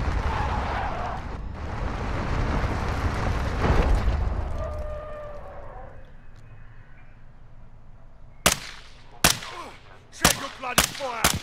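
Call of Duty MW2 DMZ match: a heavy, rumbling wash of fire and voices fades out, then several sharp, loud gunshots crack at irregular intervals near the end.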